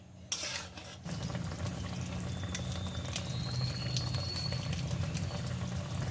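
Okra masala gravy with a little added water simmers and bubbles steadily in a pan while being stirred, a continuous close sizzling bubble with occasional scraping strokes throughout.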